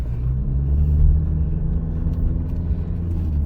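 A car drives along a narrow, unmarked city street in Ukraine, its engine and tyres giving a steady, close, low rumble heard from inside the vehicle; no one talks.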